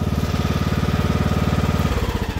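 A small ride-on tractor mower engine runs close and loud, with a fast regular pulsing chug that softens slightly near the end.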